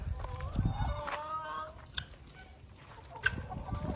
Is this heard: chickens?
yes